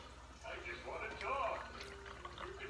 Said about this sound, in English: All right, so I'm gonna pour it in our cups.